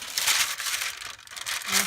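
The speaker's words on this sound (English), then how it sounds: "my favorite noisy paper" Noisy paper being crinkled and handled, a continuous loud crackling rustle close by for a couple of seconds.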